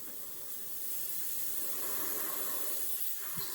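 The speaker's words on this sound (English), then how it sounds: "spray a bit more dirt onto the inside of the bridge." An airbrush sprays a dirt-coloured weathering paint onto the inside of a model bridge, a steady broad hiss running throughout, close and continuous, with no talking.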